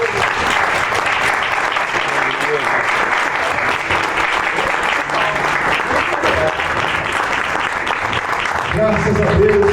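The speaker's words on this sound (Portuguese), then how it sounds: "Aplauda Jesus por isso." A church congregation claps loudly and steadily for the full stretch, a dense sustained wash of applause with a voice speaking over it.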